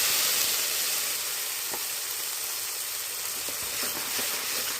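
Spice paste sizzling in hot oil with a pinch of nigella seeds, a steady broad frying hiss throughout with a few faint stirring clicks, close and even, no voices.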